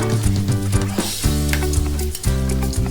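Steady sizzling of bean sprout lumpia frying in hot oil, loud and close, with faint stirring scrapes under a low background hum.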